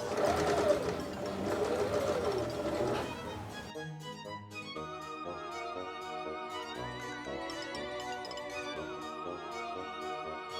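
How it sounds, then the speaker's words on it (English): A sewing machine stitches shaping seams into a felt witch hat made from remnant scraps, its steady mechanical whir running for a few seconds before stopping and giving way to background music. "I'm going to stitch in some stitches to form this hat into a little bit more of giving it some shape"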